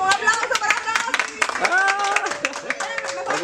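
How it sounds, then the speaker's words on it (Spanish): Studio audience on a TV variety show clapping and cheering, a busy patter of hand claps mixed with excited voices that stays steady and fairly loud throughout. "dime un aplauso para"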